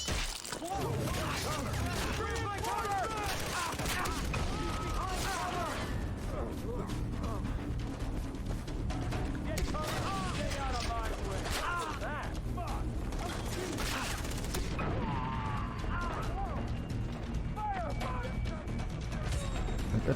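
Gunfire and explosions in the video game Far Cry 3, a dense continuous barrage of shots and crashing impacts at moderate level throughout, with no clear break.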